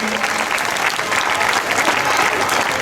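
Audience applause at a multicultural festival gala in Blanes welcomes a Bulgarian dance group from Shumen, a dense, steady burst of clapping from a large crowd.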